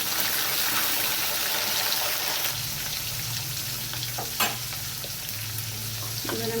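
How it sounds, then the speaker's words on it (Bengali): Soaked chickpeas tipped into a hot pan of oil, setting off a steady close sizzle and fry with a few clinks and stirring scrapes. "দিয়ে দিলাম ভেজানো ছোলা"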